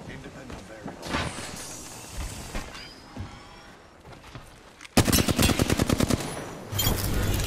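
Hip-fire gunshots in the Apex Legends video game, a loud rapid burst of automatic fire that starts abruptly partway through, preceded by quieter game sounds and a talking voice.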